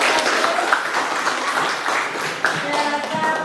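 A classroom of students claps for a discussion group that just presented, a short burst of close, fairly loud hand clapping lasting a few seconds with a voice faintly audible beneath.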